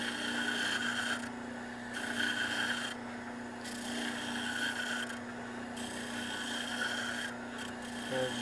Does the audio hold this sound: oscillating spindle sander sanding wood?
yes